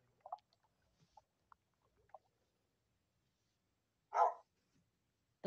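Dogs barking used as a custom kill sound in Minecraft: a few short, faint yips spaced out early on, then one louder bark later, with quiet gaps between.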